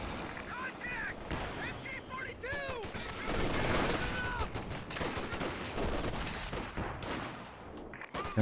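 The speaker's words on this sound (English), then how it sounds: "P4 could do quite a bit of damage here. Mortars bombing away." Mortars in a strategy video game pound away in a cluster of booming blasts and bursts of gunfire. A commentator talks over the battle.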